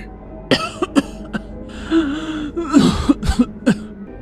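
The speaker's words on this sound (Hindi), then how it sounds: "बहुत खांसी आ रही थी" A person coughs repeatedly in short, harsh bursts, with some throat clearing between them; close and fairly loud, no speech.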